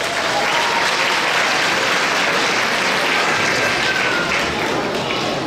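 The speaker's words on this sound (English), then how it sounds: "Let's give them a big round of" An audience at a Pakistan Independence Day event in 2018 breaks into loud, continuous applause, a dense wash of many hands clapping together throughout the short stretch.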